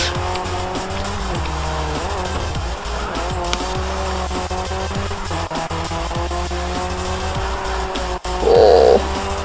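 Race car engine roaring steadily with repeated tire squeals and skids during checkpoint driving on narrow roads in the racing video game Grid 2, loud and continuous throughout.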